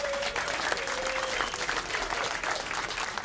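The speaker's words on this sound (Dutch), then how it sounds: "Applaus even voor Sinterklaas." Audience applause for Sinterklaas at a live farewell gala, a steady wash of many hands clapping throughout, moderately loud and continuous with a faint voice briefly audible.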